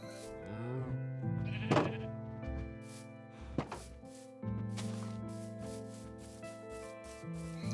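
Blocky Minecraft goats bleat in repeated wavering cries, a few near and loud, amid game sounds and thunks, with background music playing throughout.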